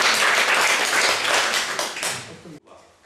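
Audience applause for a performer named Kuba at a spoken-word battle festival in Strzelin, a dense burst of many hands clapping close and loud for about two and a half seconds before cutting off abruptly.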